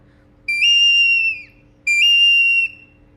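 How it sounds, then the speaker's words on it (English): Two long, clear held tones from an eagle bone whistle, each a single steady pitch lasting about a second, loud and close with silence between them. "an eagle bone whistle does not sound like an eagle's call. It's just a note."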